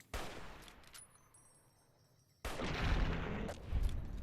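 Gunfire from a headshot in Fallout New Vegas, a sharp shot followed by a second louder burst of game combat noise, close and fairly loud, no talking.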